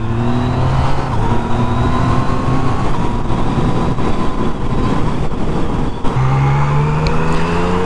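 Engine of a 2019 Yamaha MT-09 motorcycle pulling hard on a test ride, a loud, steady droning roar with rising pitch sweeps as it accelerates through the gears, a short dip near the end, and no talking.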